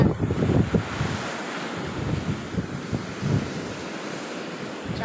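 Ocean waves wash onto a beach in a steady surf roar, with gusts of wind buffeting the microphone throughout.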